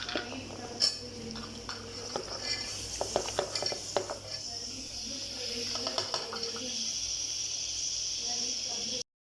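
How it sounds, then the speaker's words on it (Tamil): Chopped beans, carrot, potato and green peas tipped into a hot frying pan and stirred, with steady sizzling throughout and repeated scraping clatters of a spoon against the pan. "இப்போ நம்ம இதோட காயை சேர்த்துக்கிறோங்க"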